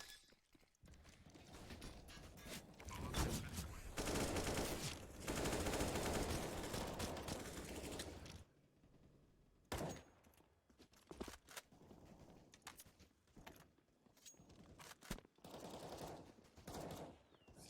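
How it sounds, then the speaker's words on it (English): Gunfire in an online competitive shooter match, with rapid bursts and scattered single shots fired through smoke from a distance, crackling loudly in dense clusters and then in sparser, spaced-out volleys. "Just trying to shoot through the smoke from afar."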